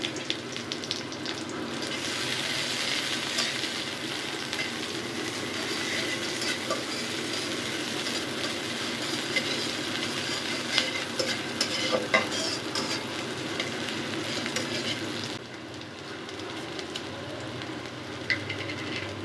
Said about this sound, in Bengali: সরিষার তেল গরম হয়েছে পেঁয়াজ আর রসুন কুচি দিলাম